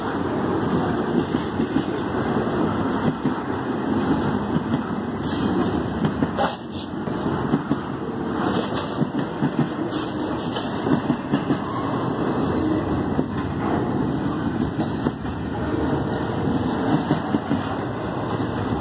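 A Canadian National freight train rolls steadily past a level crossing in Effingham, Illinois, with a continuous rumble, rhythmic wheel clatter and occasional squeals from the cars, sustained at moderate loudness throughout.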